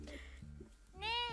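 A cat meows in a Minecraft anime world, one short rising cry at the close following soft game sounds, with a person talking over the faint background.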